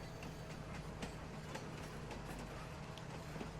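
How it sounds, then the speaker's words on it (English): A train running in Farming Simulator 19 on the Swiss Future Farm map, a steady low rumble with faint rhythmic clatter from the rails, continuous and fairly quiet, with no talk. "we'll have a quick tour around the map on the train"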